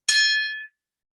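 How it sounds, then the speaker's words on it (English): Martini glass tinkled like a bell, a single bright, clear ring that sustains for about half a second and fades quickly, alone and close. "I don't have any bells, so I'm just going to tinkle my martini glass."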